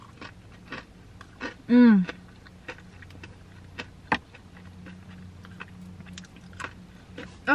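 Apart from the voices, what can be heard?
biting and chewing extra crispy KFC fried chicken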